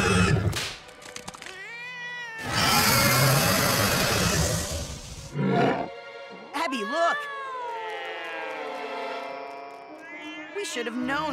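Cartoon cats meow and yowl in a run of drawn-out, bending cries, some overlapping, with a loud burst of noisy commotion in the middle and cartoon voices speaking around them.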